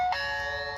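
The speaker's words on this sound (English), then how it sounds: "when we press this doorbell," A Tuya WiFi smart peephole camera doorbell rings its chime at full volume: a bright electronic ding-dong tone with steady sustained ringing, close and clear, with no voices.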